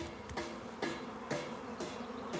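Buzzing of a honeybee swarm settled near a tree, a dense steady hum with several soft thumps recurring at intervals, heard up close and quiet, without speech.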